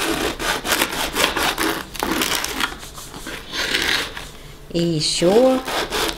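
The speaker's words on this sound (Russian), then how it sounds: "Сейчас еще кусочек отрежу." A knife saws through a crusty ciabatta loaf with repeated rough, crunchy strokes, close and loud, with a brief spoken word and a short tonal squeak near the end.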